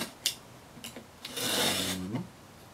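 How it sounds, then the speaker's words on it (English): A knife draws along a metal ruler, cutting about half an inch deep into a leather strap, giving a short rasping scrape close up, building to a sustained drag for about a second before stopping. "taking our metal ruler and our knife, getting about a 1/2 inch in depth, and just doing a cut"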